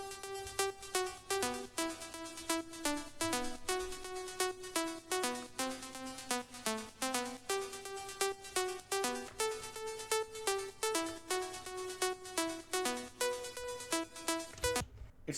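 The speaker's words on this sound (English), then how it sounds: "I added a more plucky sound to it, and I think a bit cooler melody." Plucky synth lead in a progressive trance track, tracing a fast, steady stream of short bright notes over a soft low bed, with no talk throughout.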